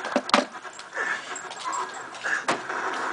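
Dog whimpering and panting indoors near a Wii, soft breathy pants and thin whines scattered over background noise, with no talk.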